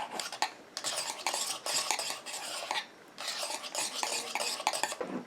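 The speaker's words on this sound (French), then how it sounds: "Et je viens de nouveau mélanger." A viscous glitter hair conditioner mixture is stirred in a container, giving repeated close scraping and clinking strokes in a steady rhythm, with a brief pause partway through and no voices.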